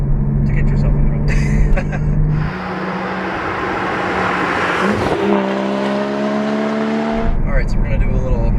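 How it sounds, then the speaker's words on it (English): A Porsche Cayman GT4 engine pulls hard from second into third gear, its tone climbing steadily and dropping sharply at the shift before rising again, loud and close from inside the car. "we're going to do a little second to third gear pull here"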